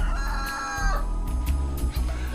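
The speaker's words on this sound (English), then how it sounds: "No, this is a cockerel." A cockerel crows in a short, loud burst close by, set against a busy background of other sound.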